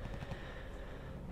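German machine gun nest with twin guns firing in a war strategy game, a dense continuous rattle of rapid bursts, steady and moderately loud throughout.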